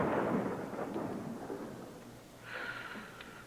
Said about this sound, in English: a little resounding noise produced by an explosive expansion of air heated by a lightning discharge